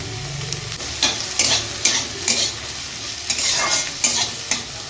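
Capsicum, onion and green chili stir-frying in a little white oil, with a steady hiss and repeated scraping strokes of the spatula across the pan, close and fairly loud, with no talking.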